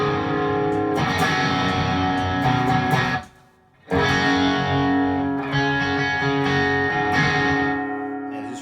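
Distorted electric guitar through an Atomic Amplifire preset, strumming full, sustained chords with a brief pause midway, then ringing on again, loud and close.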